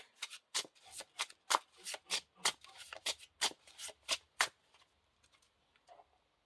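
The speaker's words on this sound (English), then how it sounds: "And then we shuffle the discard pile back into the encounter deck." A deck of game cards is shuffled in a quick series of crisp riffling bursts, about a dozen in a steady rhythm, then faint handling sounds as it stops.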